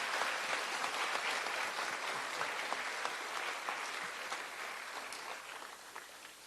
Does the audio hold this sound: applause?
yes